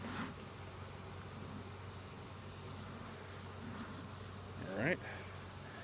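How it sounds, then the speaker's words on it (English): Honeybees buzz steadily around an opened hive during a hive reduction, a constant insect drone filling the background, with a brief spoken word near the end. "Bees are coming out."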